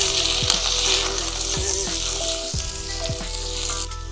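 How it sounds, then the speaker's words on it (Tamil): Steady sizzling of chopped onions frying in hot oil for a chickpea and coconut milk curry, with occasional clinks and scrapes of stirring. "எண்ணெய் சுட்ட உடனே நம்ம நறுக்கி வச்ச ஆனியனை போட்டுடலாம்."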